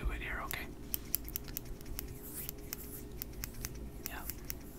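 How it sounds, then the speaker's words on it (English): A small pair of scissors snips hair in quick, close, crisp clicks at an irregular rhythm, with soft whispering underneath. "I wanted to use the smallest pair of scissors available to cut your hair"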